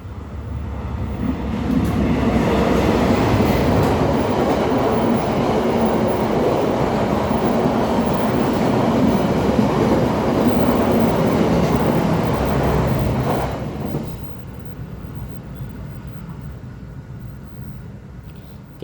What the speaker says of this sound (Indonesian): Mohon maaf ada kereta lewat ya.